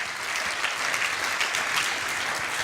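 Steady applause from a conference audience at a round-table event, dense and even throughout with no break.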